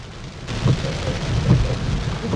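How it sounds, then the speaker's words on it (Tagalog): Heavy rain pours steadily and loudly during a storm, a dense continuous hiss of drops with low rumbling underneath and no voices. "napakalakas pa rin ng ulan"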